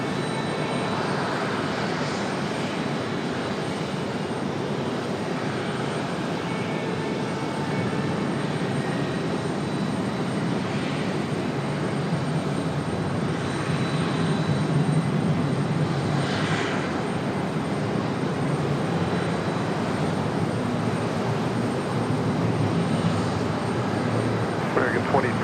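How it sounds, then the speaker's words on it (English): A JetBlue Airbus A220 descending to land at Raleigh-Durham International, its broad steady engine roar sustained throughout, fairly loud and continuous, with faint talk mixed underneath. "that A220 is finally making its way back down"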